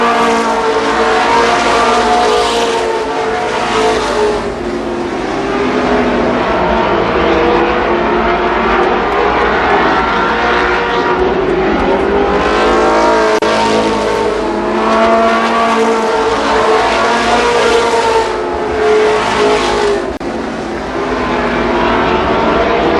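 Sprint cars roar around Columbus Motor Speedway, a dense, continuous engine howl with rising and falling pitch as cars pass, loud and sustained throughout with no gaps.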